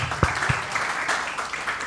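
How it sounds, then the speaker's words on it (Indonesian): A Christmas service congregation applauds the organizing committee, producing continuous, fairly loud clapping with a few prominent claps standing out near the start. "Tepuk tangan dong untuk panitianya"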